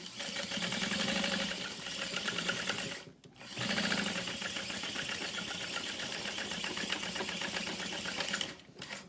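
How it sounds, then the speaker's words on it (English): A sewing machine runs steadily while stitching down the side of a backpack, a dense rapid mechanical whir that pauses briefly once and then resumes, with no talking. "I'm going to come down the side and sew down the bottom."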